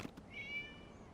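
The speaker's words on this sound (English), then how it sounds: "It was just a cat." A single cat meows in a video game, a short high plaintive call after a couple of faint knocks, fairly close and alone.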